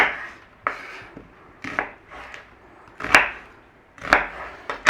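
A knife cubes onion on a chopping board, sharp close chops falling in an uneven rhythm of about eight strikes, some coming in quick pairs, with no talking.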